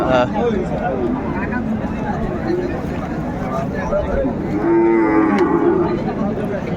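Sahiwal bulls at a cattle market in Dinajpur give loud, drawn-out moos close by, heard over steady crowd chatter and people talking.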